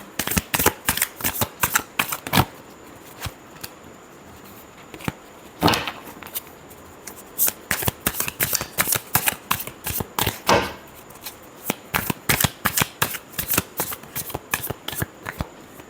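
Tarot cards shuffled by hand, a long run of quick riffling flutters and taps in uneven bursts with short pauses, close and crisp, no speech.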